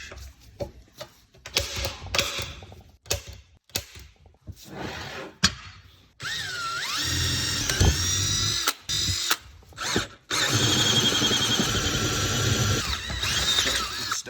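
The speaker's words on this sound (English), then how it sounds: "Drill." A power drill whines in short bursts, then bores steadily through a centre-punched metal gearbox mount for several seconds with a grinding, high-pitched tone, with clicks and handling noises between.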